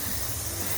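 A pressure cooker vents steam in a continuous loud broadband hiss, close and steady throughout the short moment.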